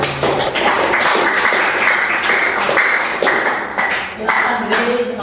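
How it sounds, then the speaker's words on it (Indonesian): A middle-school history class claps for a student group, the applause mixing with sharp, close taps and thuds while people talk over it. "Oke, tepuk tangan untuk kelompok 4."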